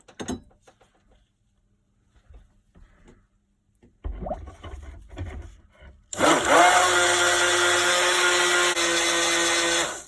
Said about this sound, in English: give it a good blend to make sure I've got all the clay fully incorporated